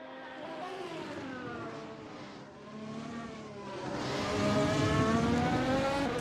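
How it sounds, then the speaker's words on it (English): The number 14 Aston Martin race car laps the Spa circuit, its engine droning and climbing through the gears in a steady rising whine that grows louder as it nears, with no voices over it. "Driving the number 14 Aston Martin"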